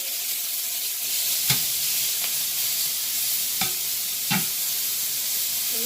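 Beef, a little over a pound, sears in a pan for stroganoff with a steady broadband sizzle. A few sharp scrapes or stirs cut through at irregular intervals. The sound is close and continuous, with no talking.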